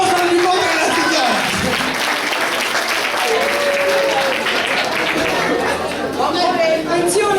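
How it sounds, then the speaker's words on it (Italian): An audience at a lively Italian gathering applauds a lady's nephew, a dense, steady wash of clapping lasting the whole stretch, with crowd chatter mixed in. "Un applauso al nipote della signora!"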